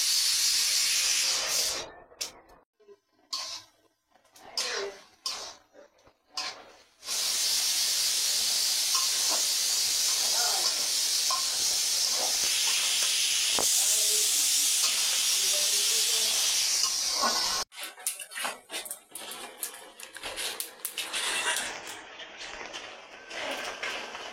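Vegetables being fried in a pan, a loud close hissing sizzle that cuts in and out early, then holds steady for several seconds before breaking into choppier spurts.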